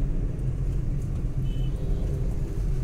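A manual-gear car driving in second gear after an upshift, with a steady low engine and road rumble that holds at an even level throughout, heard from inside the cabin.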